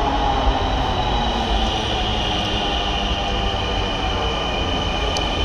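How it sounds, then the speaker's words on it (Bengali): A metro train pulls into an underground station with a loud, continuous roar of wheels and rails, a steady high squeal running over the rumble and no voices, holding close and strong throughout. "কাঙ্ক্ষিত মেট্রো এসে পড়ছে।"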